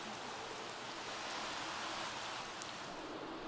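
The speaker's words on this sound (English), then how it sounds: "And it's raining" Steady rain falling in The Sims 3, a continuous soft hiss of even density with no talk over it.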